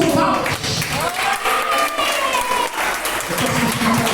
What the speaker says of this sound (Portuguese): Exalta Jesus com palmas.